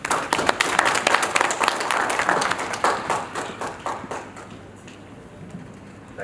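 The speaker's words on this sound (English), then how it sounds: "a big round of applause to you," Audience at a corporate awards event applauds the panelists, brisk clapping that is loud at first and gradually thins and fades toward the end.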